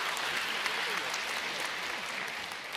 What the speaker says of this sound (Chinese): 还鼓掌了，还鼓掌了。